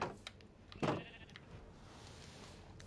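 Sheep in a farming video game let out a couple of short, faint bleats, one sharper call standing out over a quiet, hissy background with no talking.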